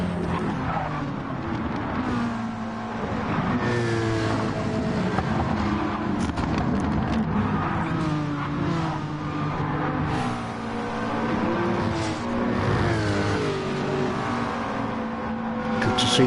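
Race cars in a PS4 racing game skid and rev continuously, tyres squealing and engines rising and falling as cars pass, with occasional commentary-like voices underneath.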